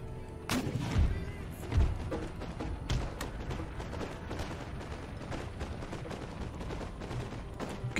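Musket volleys crackle through an Empire: Total War battle against camel gunners, a string of sharp distant shots and thuds over a constant battlefield din.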